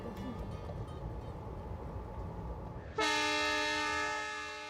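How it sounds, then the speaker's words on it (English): An express train pulls into its destination station in India with a low, steady rumble of rolling wagons. Then a loud, sustained horn blast cuts in and holds, slowly fading. "the express train is pulling in at its destination"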